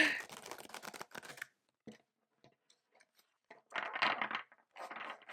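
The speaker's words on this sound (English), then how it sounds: "This way, overhand shuffling." A tarot card deck is shuffled overhand, giving bursts of rapid papery flicking and riffling separated by near silence, close and fairly crisp.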